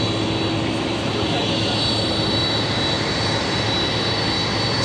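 An Emirates Boeing 777-200ER jet roars at London Stansted Airport, a loud, continuous and steady engine drone heard from nearby with no talk.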